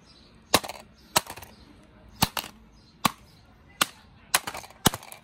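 A hammer strikes the mousepad of a business netbook about seven times in an irregular rhythm, each blow a sharp, close crack separated by brief quiet.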